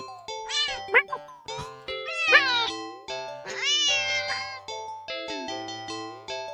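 Cat meowing in an indie horror video game, a run of drawn-out, pitch-bending cries rising and falling one after another, close and fairly loud over a soft low game hum.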